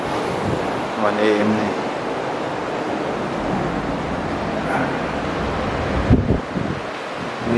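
Sea waves at night on a dark shore, a steady broadband wash of surf mixed with wind noise on the microphone. A person speaks briefly over it.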